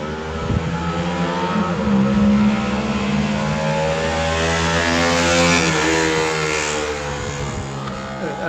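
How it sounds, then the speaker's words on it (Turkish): A steady, droning motor engine runs continuously outdoors, loud and close, its pitch rising slightly and settling with no other sounds standing out. "Eve kadar giren bir motor sesi."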